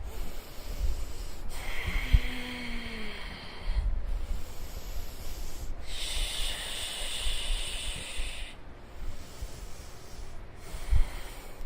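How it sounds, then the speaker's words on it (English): Deep breaths during a yoga session: a few long, slow breathy inhales and exhales, each lasting a couple of seconds, close and fairly soft over a low background hum. "we're here for 3 more deep breaths"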